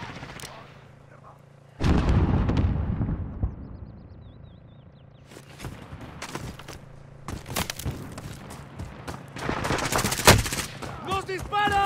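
Gunfire from a Call of Duty: Modern Warfare close-quarters match: loud bursts of shots and sharp reports come in clusters amid game noise, with a quieter stretch between volleys and voices talking over parts of it.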